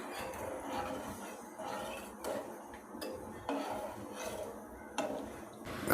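Soft scraping and clinking of a utensil against a pot while stirring vegetables for vermicelli upma, with irregular taps and stirring sounds, fairly close and moderately quiet.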